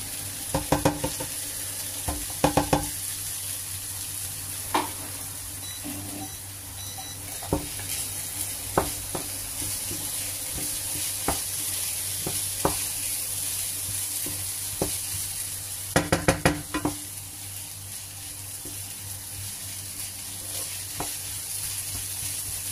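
Potatoes frying in a pan for cabbage curry, a steady close sizzle running throughout, punctuated by occasional scraping stirs and clinks of a utensil against the pan.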